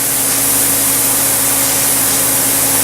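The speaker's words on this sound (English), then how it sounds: "Now the threads I'll spray from both sides" Cerakote sprayed onto rifle threads during an AR refinish, a loud continuous hiss of spray gun airflow close by, steady for the whole stretch over a low mechanical hum.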